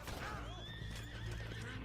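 A horse neighs in the Western game Red Dead Redemption 2, a clear whinny that rises and falls over low background rumble and a voice.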